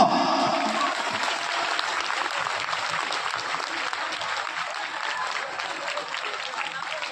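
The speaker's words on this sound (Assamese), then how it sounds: "আপোনালোকে যদি আমাক আশীৰ্বাদ দিব বিচাৰে এজাৱৰি হাত চাপৰিয়ে বজাব।" An outdoor crowd at a student union cultural day event in Assam applauds, dense clapping that starts loud and carries on steadily for several seconds, easing slightly toward the end.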